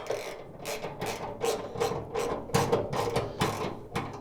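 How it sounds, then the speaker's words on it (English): A hand ratchet tightens bolts during assembly of a Z Grills 700D4E pellet grill. Rapid rhythmic clicking strokes repeat about ten times, close and fairly loud, with no voice over them. "So we'll take the ratchet there."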